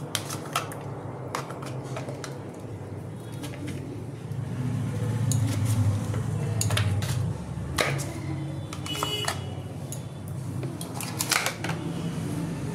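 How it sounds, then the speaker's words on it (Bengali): Butter is stirred into a barfi mixture in a pan, with a spoon giving rapid, irregular clicks and scrapes over a low, continuous rumble. "এটা ভালো করে নেড়ে নেব"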